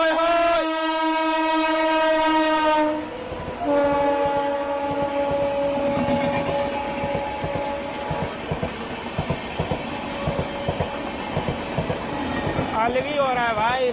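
The Ranchi Rajdhani Express overtakes the Amrit Bharat Express, sounding long loud horn blasts over the rolling clatter of wheels on rails, close by, with faint voices briefly heard.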